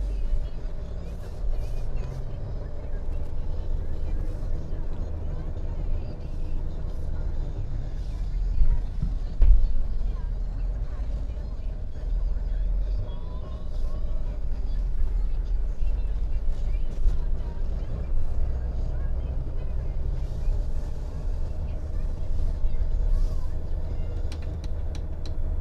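A 2020 Mercedes-Benz Sprinter 2500 crew van rolls slowly around a parking lot, a quiet low engine and road hum running steadily through the whole stretch, with someone talking over it.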